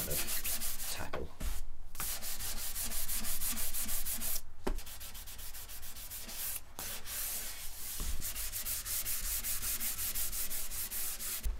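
Steady scratchy rasping of sandpaper rubbed by hand over a wooden guitar body, continuous strokes with a few brief pauses, close and fairly loud, no talking.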